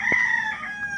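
Rooster crowing at a rural roadside poultry sale, a single sustained call that rises then holds a drawn-out, strained tone for about a second, close and fairly loud over light background noise.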